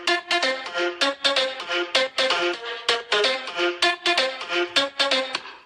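A vocal-style pluck patch from the Nexus plugin, the PL Voice Pluck 1 preset with an added effect, plays a choppy rhythmic melodic phrase of short bright plucked notes, loud and up front, with no talking.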